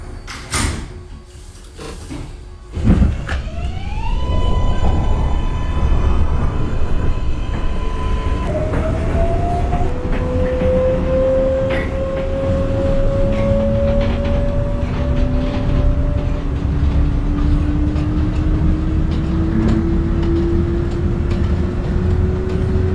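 A simulated New York R142A subway train on the 5 local line: chimes sound early, then a steady loud rumble of the car carries rising electric motor whines as it accelerates, with no talk.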